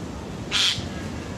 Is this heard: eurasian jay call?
yes